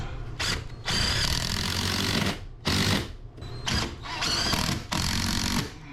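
A power drill whirs close by in several bursts of varying length, revving and straining as it drives a screw without pre-drilling, with brief pauses between.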